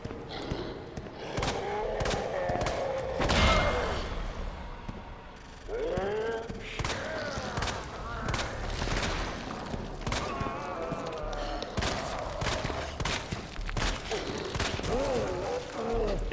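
Incendiary rounds in Resident Evil 2 Remake fire repeatedly as a string of punchy gunshots through steady combat noise, with a voice cutting in now and then.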